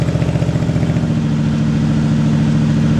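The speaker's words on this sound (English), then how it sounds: "Nothing like a good old V8." The V8 engine of a custom 1960 Chevrolet Bel Air rumbles steadily while driving, a deep, close, throbbing low-pitched drone with an even pulsing rhythm and no talk over it.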